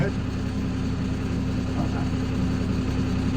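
A tractor engine idles steadily and close by, a constant low hum on a farm where a pole barn roof is being built.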